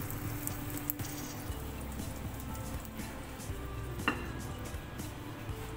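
A cheese omelette sizzles gently in a covered pan, a faint, steady crackle and patter with a few small pops, no talking.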